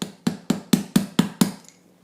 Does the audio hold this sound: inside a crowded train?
no